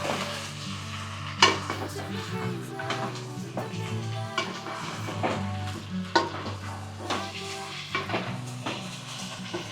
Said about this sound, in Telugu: చలో మనం ముందుగా కలిపి పెట్టుకున్న చికెన్ వేసేసుకుందాం.